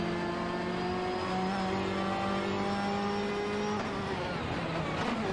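Racing-game engines of a Mazda RX-7 IMSA GTO and a Ferrari F40 Competition drone steadily at high revs, tonal harmonics shifting as the two cars jostle side by side, loud and continuous with no talk.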